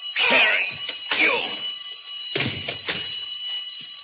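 A steady, high alarm bell rings continuously in an old, digitally restored radio crime drama, while loud bursts of voices and commotion break over it.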